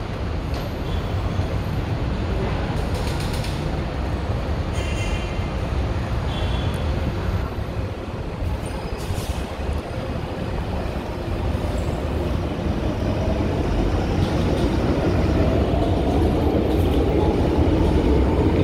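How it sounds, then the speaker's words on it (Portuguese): A light rail train and a metro train run past at the Parangaba terminal in Fortaleza, a loud continuous rumble of wheels on track with rising and falling rail noise, heard close up without talk. "Passa o metrô e o VLT, são os dois"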